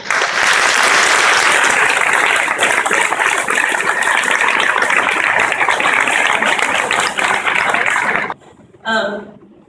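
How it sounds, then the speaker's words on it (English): Audience applause fills the room at an anniversary gala, a loud dense wash of clapping that holds steady for about eight seconds, then cuts off abruptly before a short faint sound. "we all deserve a round of applause"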